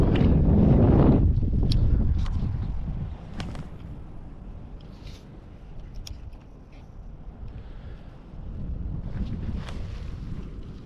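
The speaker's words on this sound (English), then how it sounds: "A lot of wind today." Strong wind gusting outdoors at a winter trout-fishing spot, loud rumbling buffets against the microphone that ease off midway and build again near the end, with faint scattered clicks.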